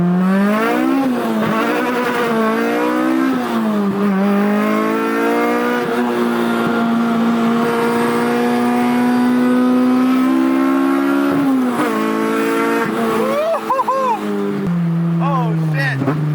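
A 300-horsepower K24-swapped Honda Civic with a modified exhaust revs hard and climbs in pitch, dropping as it shifts through several gears, loud and close throughout.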